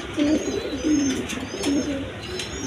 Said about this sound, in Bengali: দেখেন জার্মান সিল কবুতর, খুব সুন্দর কোয়ালিটির কবুতর,